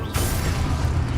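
A spell blast in Hogwarts Legacy gameplay: a sudden loud burst followed by a sustained rumbling roar with low booming texture, no voices.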